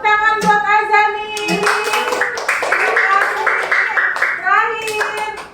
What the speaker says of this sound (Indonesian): Tepuk tangan buat Azani.